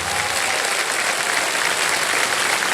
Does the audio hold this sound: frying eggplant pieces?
no